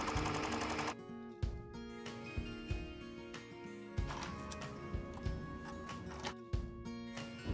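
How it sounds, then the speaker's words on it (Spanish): A serger overlock sewing machine stitching the side seam of a summer dress, its rapid mechanical whirr running in bursts with brief pauses and clicks between passes. "Voy a remallar todo este lado."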